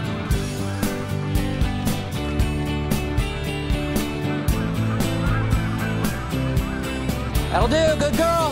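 Canada geese honk at an airport amid a thick background of music, with distinct nasal calls rising toward the end.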